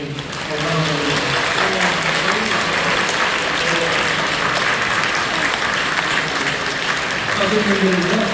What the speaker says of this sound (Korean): 우리 성도님들도 뜨겁게 박수로 환영해